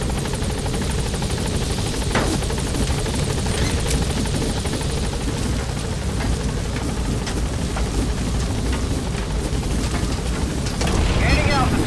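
A Metal Gear Solid 5 helicopter lifts off, its rotor thudding loud and continuous with wind-like rushing, while a voice talks over it.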